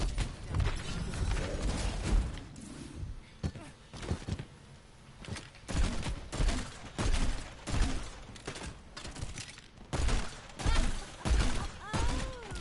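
Rapid, repeated grenade blasts and explosive thuds pound away at a shield in the Overwatch video game, loud and dense throughout, with bursts of gunfire-like clatter from a competitive match.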